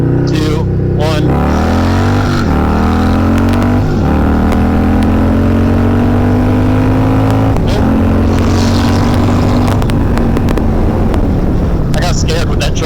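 A Harley-Davidson Softail Low Rider S with a 131 engine revs hard on a dyno during a pull, its loud rising engine tone climbing steadily with brief gear-change dips, wind buffeting and people talking over it.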